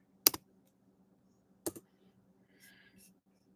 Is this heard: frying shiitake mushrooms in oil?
no